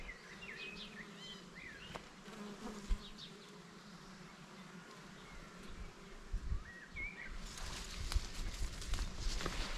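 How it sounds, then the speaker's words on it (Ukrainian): Bees buzz steadily around Florida-variety buckwheat flowers outdoors, a soft continuous hum with faint bird chirps and occasional rustles in the background. "Ну і наскільки я бачу, то бджолів тут на ній вистачає"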